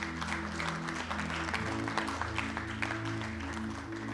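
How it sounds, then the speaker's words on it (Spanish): A church congregation applauds at a service, a dense wash of clapping that runs steadily throughout over sustained organ or keyboard tones, moderately distant and fairly quiet. "Dale un aplauso a Dios fuerte"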